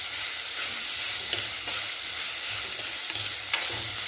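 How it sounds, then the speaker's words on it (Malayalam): Mustard seeds, onions and tomatoes sauté in hot oil for a Kerala prawn roast, giving a steady soft sizzle with occasional stirring scrapes and small pops, fairly quiet and close. "കടുക് സവാളയും തക്കാളിയും എല്ലാം എണ്ണക്കകത്ത് വഴണ്ടി"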